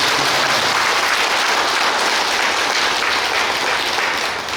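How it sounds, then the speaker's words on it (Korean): Loud, sustained applause fills a Buddhist temple Dharma service at Hwangryongsa as the assembly claps for the abbot, a continuous close wash of many hands that tapers slightly at the end. "주지스님께 다시 한번 감사의 큰 박수"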